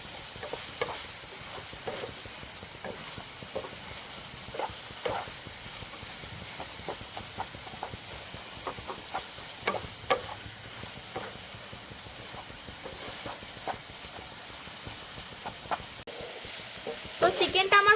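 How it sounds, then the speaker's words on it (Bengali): Chicken pieces fry in a pan with salt, chili, cumin and coriander powder, giving a steady close sizzle broken by frequent small scraping clicks of stirring, with a few louder knocks near the end. "সবকিছু দিয়ে আমি কিছুক্ষণ ভালোভাবে ভেজে নেব।"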